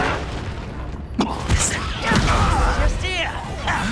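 A Confringo blasting spell explodes in Hogwarts Legacy, with sharp bursts and crashing impacts over a busy background of combat and talking, a few loud close hits within a few seconds.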